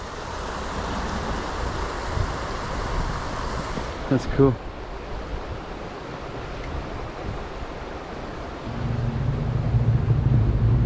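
Continuous rushing roar of churning water from a dark waterfall in a flooded creek (Red Bank Creek), with a brief remark spoken over it and wind buffeting nearby.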